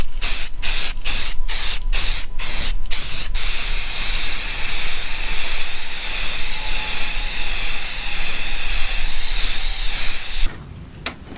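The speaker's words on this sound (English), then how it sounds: "I've been using Krylon spray paint." A Krylon spray paint can sprays onto a metal piece, starting with a quick series of short hissing bursts, then one long, steady, close-up hiss before it cuts off.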